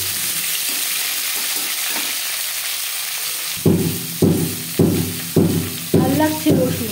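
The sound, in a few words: onions frying in oil after bay leaves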